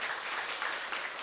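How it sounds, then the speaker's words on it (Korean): Congregation in a Korean church service clapping to welcome newcomers, a dense burst of applause lasting about a second. "박수로 환영하겠습니다"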